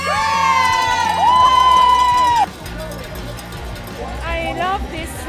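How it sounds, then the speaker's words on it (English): A trackside crowd at a Killington women's World Cup ski race cheers and shouts loudly, with a clanging cowbell and piercing whistles rising over the din before the noise eases into scattered voices. "The Killington crowd, they cheer on everyone."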